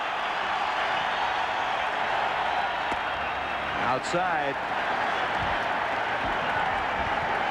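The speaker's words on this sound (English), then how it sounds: "And listen to the crowd." A Fenway Park crowd at a 1988 American League Championship Series game between Oakland and Boston roars and claps steadily in the background, while a voice speaks briefly over it partway through.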